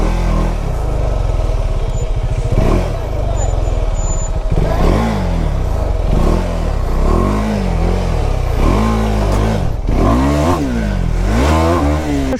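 KTM Adventure 390 motorcycles on an extreme off-road trail in Purulia, engines revving loud and close in repeated rising and falling surges, with clatter and scraping of the bikes over rough ground.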